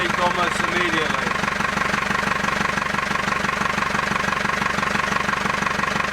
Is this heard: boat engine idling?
yes